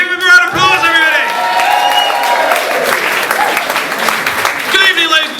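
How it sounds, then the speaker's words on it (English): Audience applause for a mentalist's stage act, a loud burst of clapping and crowd noise from a full room, with a presenter's voice over the start and a fading patter of claps toward the end. "Give him a round of applause, everybody."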